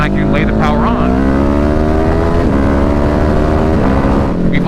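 A 2021 Ducati 950 Hypermotard accelerating hard under power, its loud engine note climbing in pitch through the rev range with a brief dip at a gear change, close and dominant.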